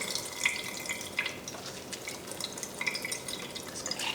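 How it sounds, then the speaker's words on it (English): Water drips and trickles as blanched vegetables are squeezed out for rainbow flower kimbap, faint splashy drips at irregular intervals over a soft wet hiss, close and without talk. "squeeze any excess water out."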